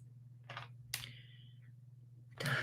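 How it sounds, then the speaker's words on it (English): A few sparse keystrokes on a computer keyboard, clicked out while a podcast description is typed during a live stream, sounding as separate sharp taps with quiet gaps between them over a low background hum. "I'm typing the podcast description."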